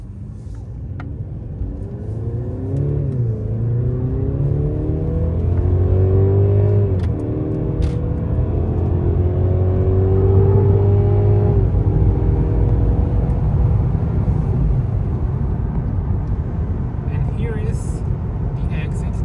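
Mercedes C-Class car on a European road trip, engine rumbling steadily from inside the cabin with rising and falling tones as it accelerates and shifts, under occasional talk.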